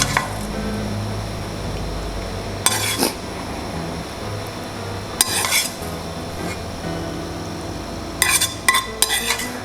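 A utensil scrapes red curry from a pan into a bowl in a few sharp, scratchy strokes spaced several seconds apart, close and distinct over a low, steady background hum.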